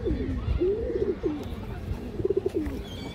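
Pigeons coo repeatedly at a pigeon market, soft rolling calls in short bursts, close and fairly loud, over a low background hum with faint chatter.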